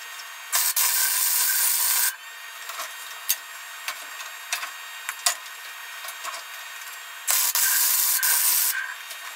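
A Harbor Freight 125 flux core welder lays down metal in two loud bursts of crackling hiss, each lasting a second or so, with sparse pops and ticks in the quieter gap between them.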